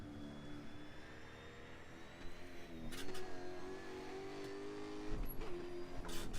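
Car engine on a race track, steady and fairly close, holding a constant note before revs rise with throttle under braking; brief wind gusts and a few sharp clicks break in, and nobody speaks.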